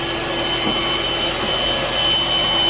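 A bathroom exhaust fan runs steadily, its constant whirring motor drone pulling dust out of the ceiling housing, loud and close with no break for its whole length.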